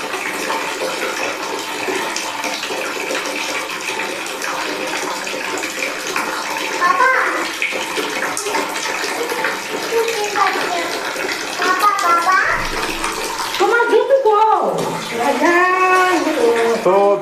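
Hot water runs steadily from a 1-litre instant geyser into a bathroom, a constant rushing gush that fills the whole stretch, with voices, including a child's, talking over it near the end.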